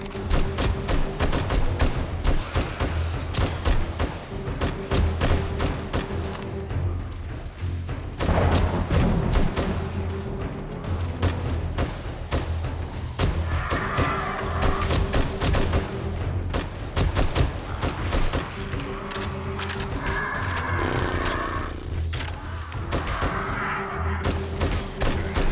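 Pistol and magnum shots ring out in the zombie survival game 7 Days to Die, a dense, loud run of rapid bangs and thuds lasting the whole stretch, with a steady low rumble underneath.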